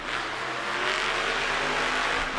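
A monster truck engine revving at a Monster Jam event in St. Louis, a sustained, roaring drone heard from a distance amid the arena, holding steady throughout with no talking.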